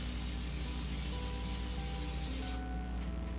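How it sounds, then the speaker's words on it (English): Cooking oil sprayed from a can onto a muffin tin over a kitchen sink, a steady close hissing spray held for about two and a half seconds before the jet cuts off. "I'm going to spray them over the sink because you get oil here or you get it on the floor"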